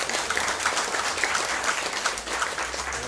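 An audience at a literary talk bursts into steady applause, many hands clapping together in a dense, even patter throughout.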